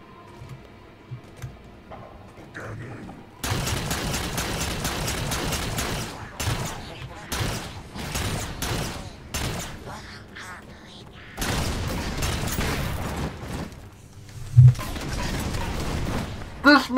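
Covenant carbine fire in the Halo 4 video game, rapid bursts of sharp repeated shots in two long runs, loud and close, with game sounds and faint voices between.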